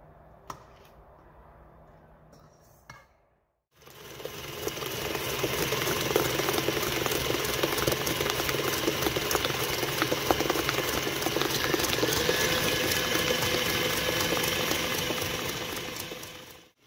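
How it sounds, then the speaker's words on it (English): A stand mixer beats eggs and sugar for vanilla cupcake batter. After a few seconds of quiet kitchen handling, a loud, steady motor whir starts and runs without a break, with a faint rhythmic beating texture and no voices. "Use the standing mixer to beat the eggs and sugar until light and fluffy."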